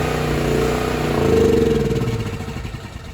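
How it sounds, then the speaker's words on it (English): A Wacker Neuson GP6600 portable generator engine starts and runs steadily outdoors, a mid-pitched chugging, its rough rumble rising and falling slightly as it catches. "So here I am trying to use the generator for the first time outside."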